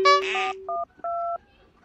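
Phone keypad tones beep as a number is dialed: a short run of distinct electronic tones, close and clear, a couple held longer, then quiet.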